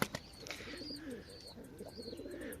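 Pigeons on the ground coo softly in low, rolling phrases, repeated several times over a faint outdoor background, with a sharp tap at the very start.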